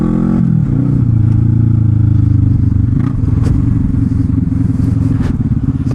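Suzuki GSX 250R motorcycle riding, its engine a steady, loud, close harmonic drone that climbs in pitch early on, then holds a constant cruising note with wind buffeting for the full stretch.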